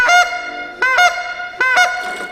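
A hand-blown goose call gives three loud honking notes in a steady, evenly spaced rhythm, each a bright cracking two-part honk, close and alone.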